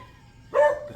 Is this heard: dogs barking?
yes